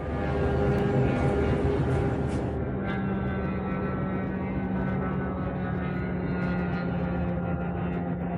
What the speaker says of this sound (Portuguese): Um vídeo de um drone Shahed em voo